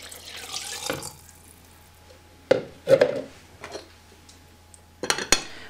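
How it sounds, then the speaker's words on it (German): Water from a tap poured into a light-colored jar of washed daisies, heard as a few short splashing bursts with quiet gaps between them. "Und die werden jetzt einfach mit einem halben Liter Wasser übergossen."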